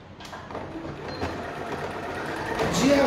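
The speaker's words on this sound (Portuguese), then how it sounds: "vamos costurar a máquina" Sewing machine stitching two fabric legs in a single seam, a soft steady mechanical whir running close by throughout, with someone speaking over it.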